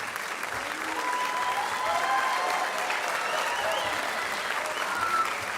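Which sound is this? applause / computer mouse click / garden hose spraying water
applause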